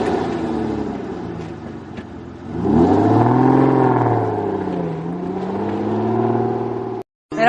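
A Lamborghini Huracán Evo all-wheel-drive supercar revs loudly nearby, its engine idling with a steady tone, then swelling into a strong rising rev that holds and wavers before cutting off abruptly.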